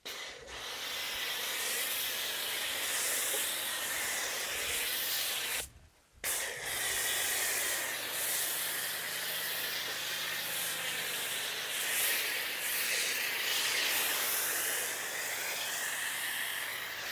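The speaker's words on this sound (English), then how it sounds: "Spray on with a foam cannon." A foam cannon sprays snow foam onto a car as a steady, close hiss that runs nearly unbroken, with one brief pause partway through before the spraying resumes.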